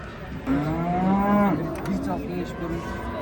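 Cattle low at a livestock market in Karakol, one drawn-out moo rising and falling close by, followed by a shorter call, over a murmur of crowd noise.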